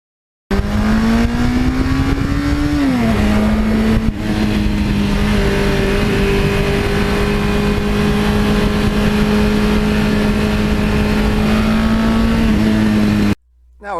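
A 1982 Suzuki GS1100E motorcycle engine runs steadily and loud, close up, with a strong low hum and a brief shift in pitch early on, then cuts off near the end; no one speaks over it.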